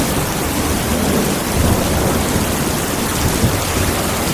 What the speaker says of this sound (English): It was pouring down rain.